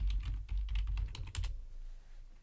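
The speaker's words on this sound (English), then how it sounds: "I'll type in gold lines." Quick bursts of keystrokes on a computer keyboard, a rapid run of close, crisp taps that thins out toward the end, with a low hum underneath and no speech.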